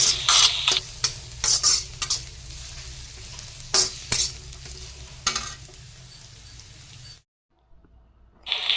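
Chopped onion fries in tempering oil over a low flame, making a soft steady sizzle broken by sharp spoon taps and stirring clicks. The sound cuts out briefly near the end, then returns.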